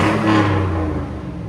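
A Chevy Silverado SS with a 6.0L V8 and dual-in, dual-out muffler gives a short, loud, close exhaust rev, a deep throaty roar that swells and then eases off, with no talking.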